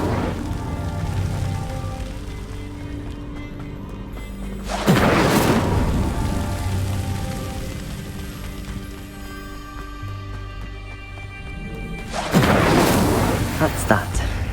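Two bursts of the Incendio fire spell from Hogwarts Legacy flare up about seven seconds apart, each a whooshing roar over a droning background of game music and ambience.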